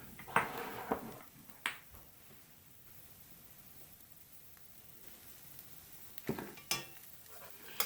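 Corn and garlic stirred in a pan, a faint sizzle under a few sharp scrapes and clacks of the utensil against the pan, near and sparse, with quiet stretches between.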